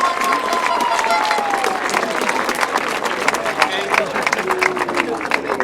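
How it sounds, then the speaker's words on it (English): Crowd applause at the 2013 World Team Longtrack Championships speedway medal ceremony, as France is presented: steady, dense clapping and crowd noise, with a distant engine whine drifting across. "Big round of applause please"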